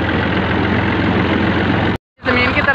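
A tractor engine idles and runs with a steady low throbbing chug on the way to a wheat field for night ploughing, loud and close, briefly cutting out before resuming.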